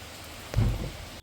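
Heavy rain pouring down in a steady broadband wash, with a louder low rumbling surge near the middle before it settles back to a constant hiss.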